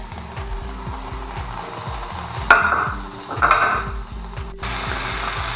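Chicken added to spice-fried masala oil for a homestyle pepper chicken, a strong sizzle surging as the pieces drop in, with scraping stirs over a rhythmic mechanical thumping in the background.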